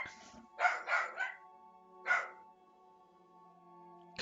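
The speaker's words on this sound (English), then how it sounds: "Goddamn dog." A dog barks nearby, a quick run of three barks followed by a single bark after a pause, then quiet hum.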